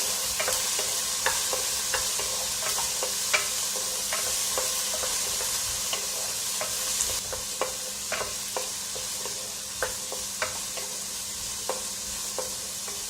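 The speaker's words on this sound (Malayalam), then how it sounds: "വെജിറ്റബിൾസ് ഒന്ന് നമുക്ക് എണ്ണയിലൊന്ന് ചെറുതായിട്ട് സോട്ട് ചെയ്തെടുക്കാം." Mixed vegetables with beans sautéing lightly in oil for a kurma, a steady hissing sizzle with frequent small ladle taps and scrapes scattered through it, near and continuous, no speech.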